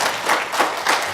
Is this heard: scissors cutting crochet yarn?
no